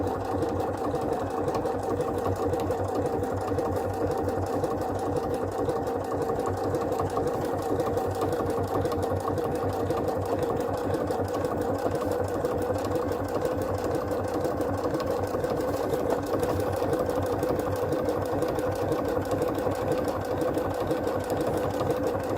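Sewing machine stitching appliqué onto a vintage fabric table runner, a steady continuous mechanical whir with a rapid needle rhythm running loud and unbroken throughout, no talking.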